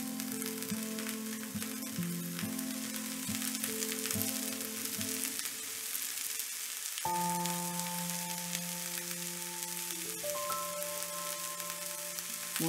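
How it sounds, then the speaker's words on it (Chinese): Diced potatoes fry in a flat pan, a soft steady sizzle with light crackles running under clanking utensil tones and faint background sounds. "如果您喜欢更熟一点或者是更焦一些的，可以继续煎制一会儿。"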